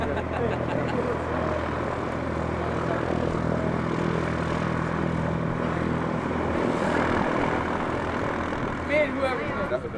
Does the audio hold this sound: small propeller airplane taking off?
yes